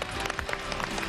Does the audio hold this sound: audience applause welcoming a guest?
yes